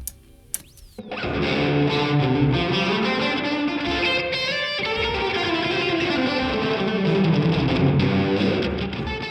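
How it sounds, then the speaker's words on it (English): Electric guitar played through the reverb of the Neural DSP Archetype Tom Morello plugin, with sustained distorted chords washing into a spacious, lingering tail that stays loud and continuous. "Oh, that's actually quite a cool reverb."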